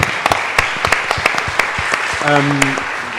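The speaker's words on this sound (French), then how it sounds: "je pense qu'on peut applaudir donc, les intervenants" An indoor audience claps steadily for the speakers at a talk, scattered handclaps forming applause while a voice speaks briefly over it.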